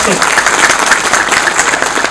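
Applause from a seated audience at a public gathering of the Uttarakhand film industry, a short dense burst of crowd clapping heard close and loud, with voices mixed in.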